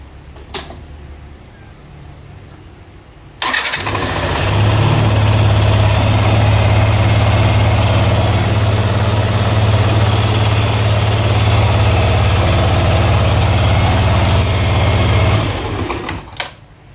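Yamaha NMAX V1 scooter, freshly fitted with new starter carbon brushes, starts on one click after quiet, then idles loud and steady with a close buzzing exhaust drone before shutting off near the end.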